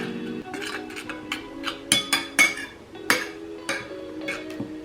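Pepper-seasoned marinade for a zucchini salad being stirred in a bowl, with repeated clinks and scrapes of a utensil against the dish, fairly close and uneven in rhythm.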